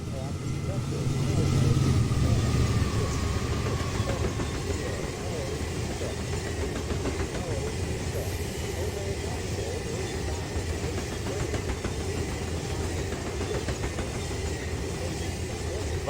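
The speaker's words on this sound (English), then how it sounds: "Let's idle the train." A diesel locomotive idles in the Run8 Train Simulator game, a steady low engine rumble running throughout with a faint higher hum, as people talk over it.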